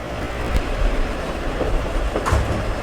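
Steam locomotive WA 165 runs on the Gisborne City Vintage Railway, a continuous close rumble of rolling stock with rhythmic clacks and a couple of brief sharp bursts, without speech.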